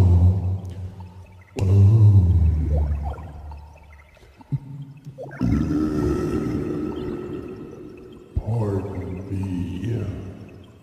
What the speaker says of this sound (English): humongous whale, spouting in the water.